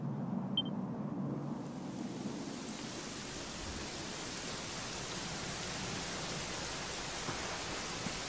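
Steady rain falls in a continuous, even hiss with no breaks, moderately loud and close, with no voices or other sounds, in the video game Dragon Quest XI.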